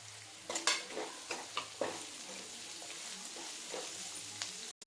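Onion, green chilli and curry leaves fry with ivy gourd in a pan, giving a quiet steady sizzle with a few louder stirring scrapes near the start and a sharp clatter at the very end.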